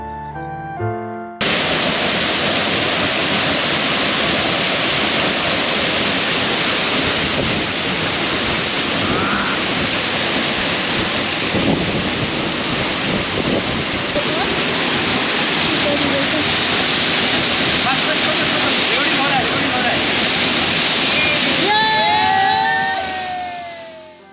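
Duka Falls waterfall in Kalimpong pours in a dense, steady roar close by, with a voice faintly audible near the end.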